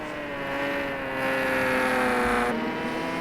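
Ford Mustang race cars roar around Knockhill circuit in a racing video game, a steady, loud engine drone with shifting tones as cars pass.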